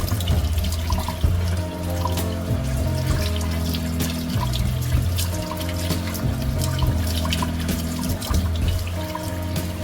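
Guinea-hen plant is washed under a running tap for tea, a steady close splashing of water into a sink with shifting trickles and a few handling knocks, and no voices.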